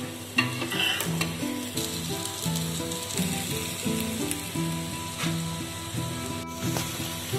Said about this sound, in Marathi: आता आपण हे परतून घेऊया